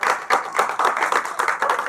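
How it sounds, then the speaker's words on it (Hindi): A crowd at a coaching centre's annual function and farewell event claps briskly and loudly in a close, uneven burst of applause lasting under two seconds. "ताली में कंजूसाई नहीं गई।"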